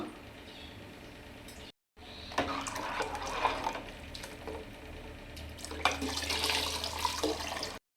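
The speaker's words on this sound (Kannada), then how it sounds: "ಈಗ ನಮ್ಗೆ ಎಷ್ಟು ಬೇಕಷ್ಟು ನೀರನ್ನು ಜಾಸ್ತಿನೇ ಹಾಕಬೇಕು" Water pours into a pot of vegetable and sprout sambar, a splashing, gurgling stream that briefly stops near the start, then runs on unevenly at moderate volume.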